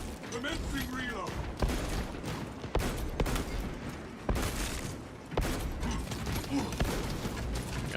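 Heavy bolt pistol gunfire in a video game, a series of loud booming shots spaced roughly a second apart, each with a sharp attack and rumbling tail, with a voice talking over them.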